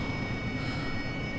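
A Harrier jet engine in the DCS AV-8B flight simulator roars as a steady, loud, broadband whine with constant tones, heard alone.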